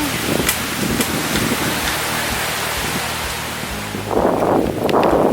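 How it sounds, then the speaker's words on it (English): Wind rushes outdoors on a typhoon day, a broad roaring gust noise with occasional brief knocks and rustles, swelling louder toward the end. "Hearing the wind."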